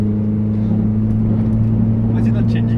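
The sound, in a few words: Volkswagen Beetle engine accelerating at full throttle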